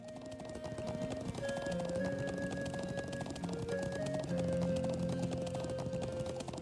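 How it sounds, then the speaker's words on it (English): A horse gallops in the Trails of Cold Steel video game, with rapid rhythmic hoofbeats running steadily under sustained tonal game music throughout. "Imagine riding a horse this fast."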